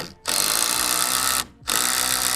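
Power driver sinking a 75mm square-drive screw into a pre-drilled hole on the front of a garden step's angle strut: two loud, steady whirring bursts close by, separated by a brief pause.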